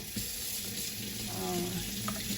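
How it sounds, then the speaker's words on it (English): Water from a tap runs steadily into a glass holding two shots of Nespresso coffee, lengthening the drink, with faint background noise and a brief clink near the end. "I'm gonna add a little bit of water to it because I want to drink it long."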